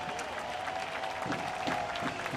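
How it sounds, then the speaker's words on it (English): Stadium crowd at a USL soccer match between Sacramento Republic FC and Seattle Sounders FC 2, applauding steadily as a substituted player leaves the pitch, a broad continuous wash of clapping held at even level throughout. "the crowd applauds his effort tonight"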